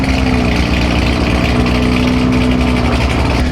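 A bone stock Toyota Supra engine idles steadily up close, a loud, even, low mechanical hum and burble that holds constant with no revving and no talk.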